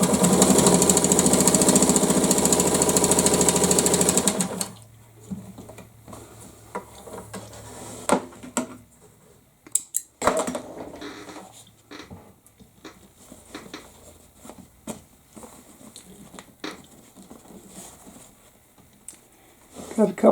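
A Wards Damascus rotary sewing machine runs with a loud, steady mechanical whir for a few seconds and then stops. Quieter clicks, handling noises and a person talking follow.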